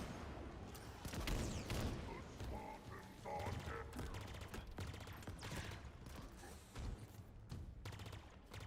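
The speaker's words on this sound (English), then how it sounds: "Grenade spam." Repeated grenade explosions in Halo Infinite's campaign, a string of booming blasts mixed with rapid gunfire, fairly loud and continuous, with a voice occasionally talking underneath.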